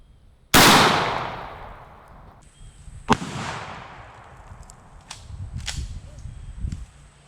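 A shotgun loaded with number 5 shot fires during a penetration test, one sharp loud blast that rings and decays, followed by a second, softer report and several light clicks and handling knocks.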